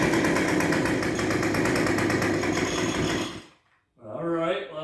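Two-stroke backpack leaf blower engine running loud and close as the throttle is opened, a steady buzzing roar that cuts out abruptly near the end, then sputters back briefly.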